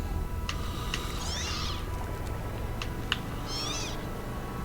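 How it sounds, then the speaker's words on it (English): Scarab creatures in Borderlands give two wavering, cat-like meows about a second apart over a steady, dense background rumble, with a few sharp clicks in between. "The funny scarabs that sound like cats."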